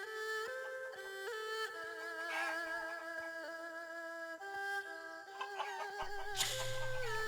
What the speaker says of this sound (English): Try catching 10 of those chickens.